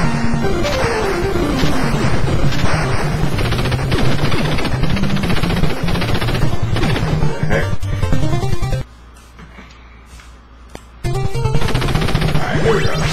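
Rapid gunfire and blasting effects from the Contra video game run loud and dense with explosive bursts and music, broken by a short near-silent pause before the shooting resumes.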